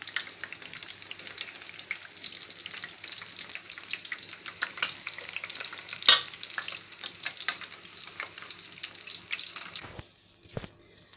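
Cauliflower deep-fries in hot oil as a close, continuous crackling sizzle with one sharp knock, then the frying cuts off suddenly near the end.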